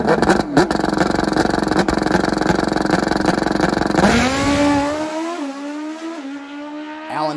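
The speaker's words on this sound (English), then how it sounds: "Fields and his Walt Timberland chassis heads for the finish line" Nitrous-fed drag racing motorcycle on a Walt Timberland chassis roaring down the strip at full throttle, a loud sustained engine howl that rises in pitch through the gears before fading as it passes.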